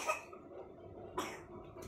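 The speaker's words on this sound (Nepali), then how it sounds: "छोरीलाई खोकी लागेर केही छैन।" A girl coughing, with two short, close coughs about a second apart and a faint third at the end, over quiet room noise.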